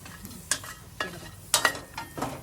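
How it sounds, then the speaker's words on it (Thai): Ingredients for Phu Thai pon chilo dry-roast in a pan, with sharp spatula scrapes about every half second over a low, soft background hiss, close up and with no talking. "จะคั่วจนแห้งจนได้กลิ่นหอม"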